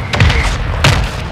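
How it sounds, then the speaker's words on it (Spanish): Heavy thuds from a mortar strike boom through the game Call of Duty Warzone 2: two dull, loud impacts about half a second apart, over continuous battlefield noise. "Requesting mortar strike."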